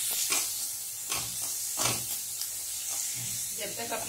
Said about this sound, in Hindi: जब तक अपनी लहसुन भून रही है